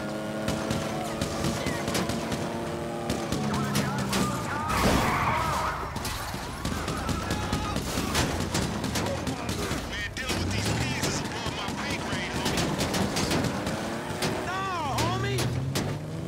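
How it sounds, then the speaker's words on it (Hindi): Rapid gunfire crackles through a GTA-style video game police shootout, dense bursts layered over engine roar, crashes and game music, with a player talking throughout. "क्या गोली मार रहे भाई?"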